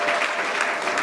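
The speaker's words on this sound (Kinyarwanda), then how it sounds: "Mukomere Yesu amashyi cyane." A church congregation applauds during a prayer service, a short burst of dense, loud clapping from many hands.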